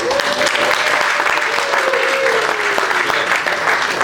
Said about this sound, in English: What a rousing, amazing round of applause.